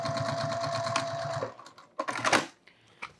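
Sewing machine stitching a toiletry bag in a fast steady run that stops after about a second and a half, followed by a few sharp clicks and fabric-handling rustles.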